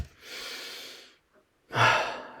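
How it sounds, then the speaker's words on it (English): A person takes two long, breathy intakes of air, close and fairly loud, with a short silent pause between them and the second one stronger and harsher. "Are they trying to breathe in but can't?"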